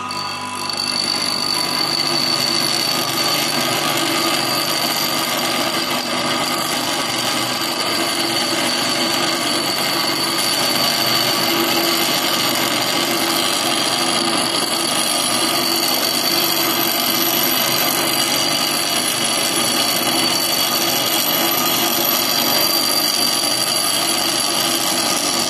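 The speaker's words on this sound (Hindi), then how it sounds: "और कुछ इस तरह से ग्राइंड करेंगे।" A mushroom head chisel is ground on a bench grinder, giving a loud continuous abrasive whine that holds steady without a break from start to finish.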